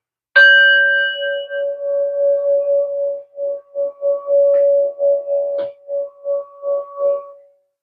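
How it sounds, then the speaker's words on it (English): A gong is struck once, ringing out with a long shimmering tone that sustains with slow pulsing beats, fading gradually over several seconds. "We're going to bang a gong."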